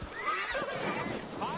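A horse whinnies in the video game Assassin's Creed Valhalla, a short, wavering neigh rising and falling over a rough background, brief and fairly close.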